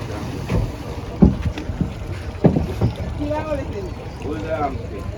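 A passenger river boat on the Berbice River motors along with a steady engine drone and rushing water and wind noise, while people talk and call out nearby over it.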